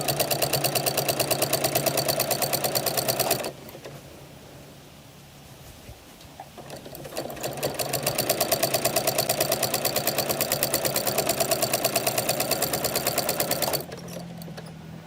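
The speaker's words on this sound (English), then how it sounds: "I am going to sew 1/4 inch, folded together, this right onto the edge of the quilt as soon as I turn my machine on." A sewing machine stitches folded binding onto a quilt edge, a fast steady mechanical rattle that pauses briefly partway through, then starts again and runs at full speed before slowing near the end.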